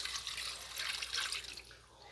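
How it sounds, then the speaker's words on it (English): Water pours steadily into a slow cooker pot holding a chicken pot pie mixture, a continuous splashing, trickling flow that stays fairly loud and close for about two seconds with no talking. "now I'm going to put in the water first"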